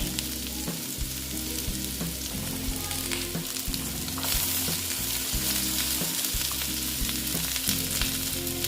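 Mixed vegetables, among them sweet pumpkin, fry in a pan with a loud, continuous close sizzle and crackle, broken by a few stirring knocks and no voices.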